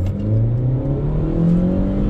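A Honda Amaze 2021 BS6 car in first gear, its engine revving up steadily while accelerating, a loud, continuous rising drone heard from inside the cabin.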